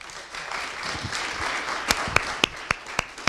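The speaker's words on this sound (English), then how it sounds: "Let's give them a round of applause, guys." An audience applauds presenters taking the stage at a business event, a steady wash of clapping with several sharp, distinct claps standing out toward the end.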